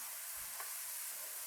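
Onion frying with ginger-garlic paste in a pot, a constant loud hiss of sizzling oil with faint stirring beneath it, over a short moment.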